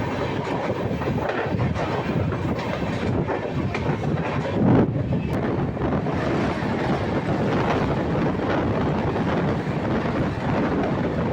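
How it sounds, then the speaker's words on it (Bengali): The Howrah–Balurghat Express runs at about 90 km/h. Its dense, continuous rumble and rattle are heard from on board, with wheel clatter and wind buffeting, loud and steady throughout. "আমাদের ট্রেনের এখন বর্তমান স্পিড 90 কিলোমিটার প্রতি ঘন্টা"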